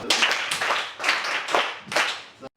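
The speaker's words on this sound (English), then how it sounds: "Clap for her." A group of trainees claps for a student at an entrepreneurship and business leadership training, five rhythmic bursts of hand clapping nearby that stop abruptly.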